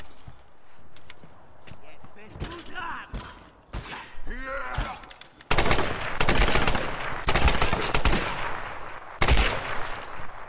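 Gunfire from a weapon in the Tomb Raider video game, several sharp bursts of shots following one another, loud and close, with quieter game sounds before and someone talking in between.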